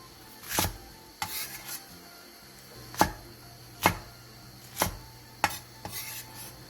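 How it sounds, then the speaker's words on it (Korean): A knife chops radish, onion and green chili peppers into large chunks on a cutting board, several sharp, spaced-out thuds with no talking. "청양고추 3개를 갈기 좋은 크기로 큼직하게 잘라주세요."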